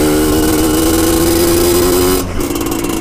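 An RX Spesial trail motorcycle engine buzzes loudly and close as it is ridden, holding a steady high drone before it briefly drops off near the end.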